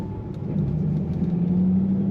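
A 2013 Ford Mustang Shelby GT500 engine hums steadily at moderate revs in second gear through a roundabout, a low droning rumble that rises slightly in pitch as it pulls, heard from inside the vehicle.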